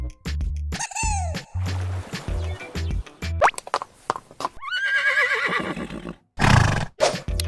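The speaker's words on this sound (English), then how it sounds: "Horse. Easy." A horse whinnies in several shrill, wavering neighs, loud and close, broken by short gaps and other brief animal-like calls, with no talk over them.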